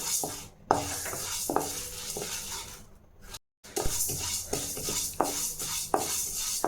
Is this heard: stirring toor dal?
yes